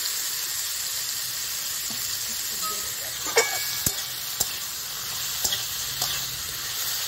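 Boiled kohlrabi frying in hot mustard oil, a steady bright sizzle and hiss with a few sharp spoon taps and scrapes against the pan.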